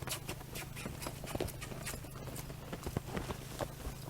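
Hooves of a mare clip-clop steadily on the ground as she is worked from the ground on hindquarter control, a regular close rhythm of footfalls over a low constant hum.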